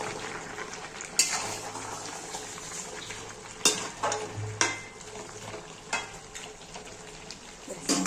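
Mutton pieces with spices sizzle steadily in a pan for a Bengali mutton kosha, with sharp scrapes and clinks from a spatula stirring the meat against the metal now and then.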